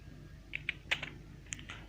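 A few quiet, irregular keystrokes on a computer keyboard while logging in over SSH during a networking exercise, soft close clicks over a low steady hum with no talking.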